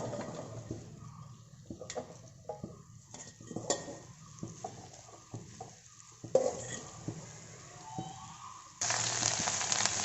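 Okra (bhindi) pieces frying in hot oil in a pan, with soft sizzling under frequent clinks and scrapes of a utensil stirring, and a louder hiss near the end.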